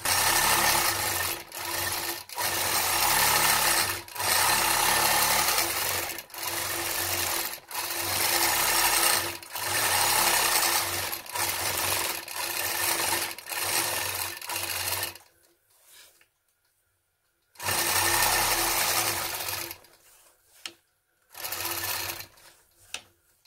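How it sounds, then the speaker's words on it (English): A sewing machine machine-quilting a medallion quilt, stitching in the ditch, feathers and straight lines, runs in steady rapid bursts with short pauses and a longer stop near the end, loud and close with no talk. "Again, I'll stitch in the ditch, feathers in the pink portion, and straight line quilting in the blue section."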